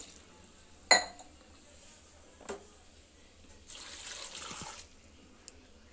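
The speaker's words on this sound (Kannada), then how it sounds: "ಈಗ ನೀರು ಒಂದು 2 ಗ್ಲಾಸಷ್ಟು ನೀರು ಹಾಕ್ಕೊಂಡ್ಬಿಡ್ತೀನಿ." A couple of sharp clinks of metal, then a brief splashing rush of about two glasses of water poured into a pressure cooker, close and moderately loud.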